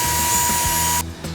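Power tool whining at a steady high pitch in a woodworking shop while building a workbench outfeed table, running loud for about a second before cutting off abruptly, then a brief softer mechanical clatter.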